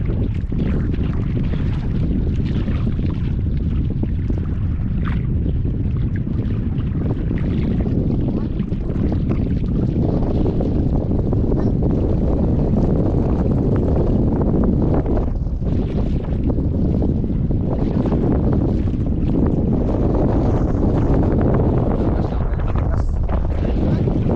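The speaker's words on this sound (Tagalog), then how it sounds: "Lakas ng hangin." Strong wind roars loudly and steadily across the microphone, a constant buffeting rumble with gusts swelling throughout, no clear speech above it.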